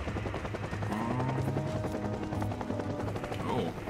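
A helicopter in the action video game Bayonetta 3, its steady rotor thumping and whine running loud and continuous with rapid gunfire-like rattling mixed in throughout.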